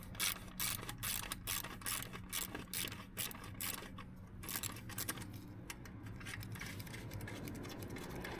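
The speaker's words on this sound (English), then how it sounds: "we'll take this 12mm socket, loosen this clamp here" Ratchet with a 12mm socket loosening an exhaust clamp on a motorcycle, a quiet, close run of rapid clicking pawl bursts with short pauses, fading into softer mechanical rattles, no voices.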